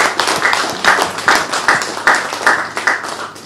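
A crowd at a labour rights ceremony for signing an ILO convention gives a loud round of applause. The claps swell in regular, rhythmic pulses, as if the hands beat together in time.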